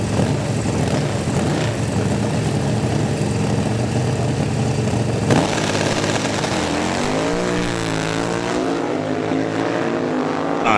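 Drag-racing motorcycle engines, including a 2001 Harley FXR, roar loud and steady throughout, the note rising and wavering in pitch toward the end.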